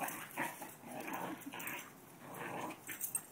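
A puppy growls in low, rumbling bursts while playing with another dog, close up, with a few rough yips mixed in and no talking.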